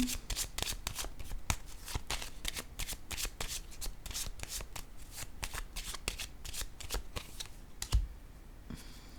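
Tarot cards are shuffled and snapped down onto a table in quick, crisp bursts of riffling and flicking, close and dry, ending with a single firmer slap as a card is laid down.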